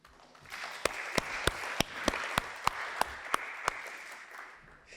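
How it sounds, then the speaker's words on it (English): Applause from an audience honoring the teams at a hackathon awards and project demo event, a steady wash of clapping with a series of sharper, evenly spaced claps rising above it, moderately near. "let's have another round of applause for all of our teams"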